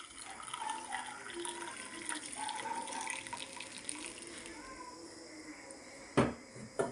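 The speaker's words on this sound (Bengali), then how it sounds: "এখন চায়ের রঙগুলো কাপের মধ্যে ঢেলে দিচ্ছি।" Red tea poured into a cup, a steady gentle liquid trickle with faint splashing, quiet and close, followed by a couple of brief clinks near the end.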